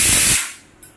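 A pressure cooker cooking rice lets out a sharp, loud burst of hissing steam that cuts off quickly and fades to quiet.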